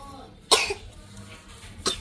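Two sharp coughs from a person outdoors while bikes are being cleaned, the first loud and close, the second slightly softer about a second and a half later.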